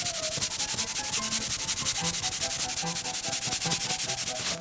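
A wooden M1903 rifle stock coated in beeswax is rubbed briskly with a cloth, making a steady, close, rhythmic swishing and scrubbing sound with dense strokes throughout and no talking.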